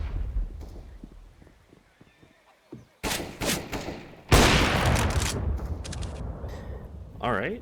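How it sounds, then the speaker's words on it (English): Flashbang grenade going off in Counter-Strike on the Inferno map: a sudden loud burst among sharp bursts of gunfire after a quieter stretch, with a brief voice near the start. "Throwing a flashbang."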